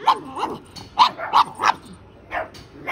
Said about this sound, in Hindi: वो अंदर से भौंक रही है, यहाँ से भौंक रही है